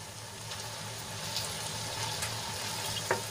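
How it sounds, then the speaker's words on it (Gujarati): Peanut and sesame masala being stirred into okra frying in a pan, a steady low sizzle with faint scraping and a brief clink near the end, no voices. "મસાલો સરસ રીતે ભીંડામાં આપણે મિક્સ કરી લઈશું"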